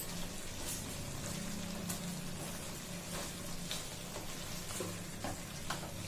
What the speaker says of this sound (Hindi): फ्लेम को लो कर लेंगे और धीरे धीरे इसको अच्छे से मिक्स कर लेंगे।